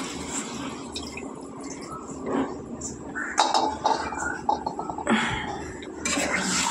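A cooking pot is rinsed and then filled with water: running water and splashes come in uneven bursts, moderately close, with quieter gaps of dripping between them.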